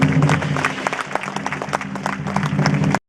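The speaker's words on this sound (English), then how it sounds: "Big round of applause." Audience at a product launch event bursting into steady, loud applause from many hands that carries through to an abrupt end.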